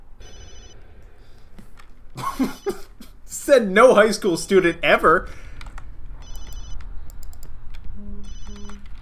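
A cell phone rings in the video game Obscure with short repeating ringtone bursts near the start and end, while a person talks over the middle.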